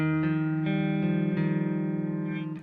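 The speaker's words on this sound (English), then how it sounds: "DM2, nice subtle analog delay." An electric guitar plays a few sustained notes through a vintage Boss DM-2 analog delay pedal, each attack trailed by soft, subtle repeats and a gentle warble as the notes ring out. No voices are heard.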